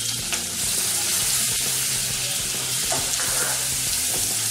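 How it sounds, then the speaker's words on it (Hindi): Green chillies and cumin seeds roast with a pinch of salt in a pan, giving a steady, close, even sizzle that carries on without a break and with no voices. "इसे हमें थोड़ी देर भूनना है।"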